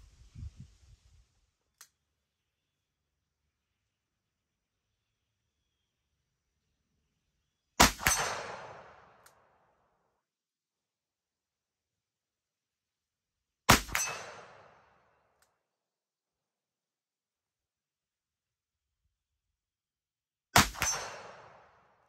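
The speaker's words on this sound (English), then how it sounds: "I think I'm gonna go shoot this one a little bit." Three loud, isolated .44 Magnum revolver shots fired several seconds apart, each a sharp crack with a decaying outdoor echo, separated by near silence.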